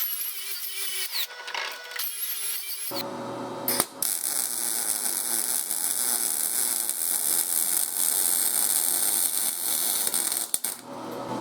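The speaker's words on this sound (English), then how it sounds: "Clean it up with a wire wheel." A wire wheel scours a broken Ridgid tri stand pipe vise to prepare it for welding, producing a loud, steady, gritty whir close by that runs unbroken for most of the stretch after a short lead-in and a brief stop.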